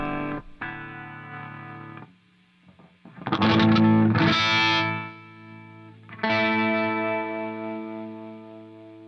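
An electric guitar runs through a distorted Bias FX iOS amp chain with its noise gate set to reduction, playing chords and single notes that ring out. Between phrases the sound dips and fades quietly without ever cutting to full silence.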